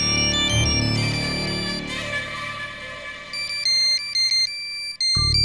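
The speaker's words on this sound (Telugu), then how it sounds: "ఈయన ఫోన్ చేస్తున్నాడేంటి?" A mobile phone rings with an incoming call, a loud electronic melodic ringtone of repeating bright tones that starts up and stops abruptly near the end, with no voices.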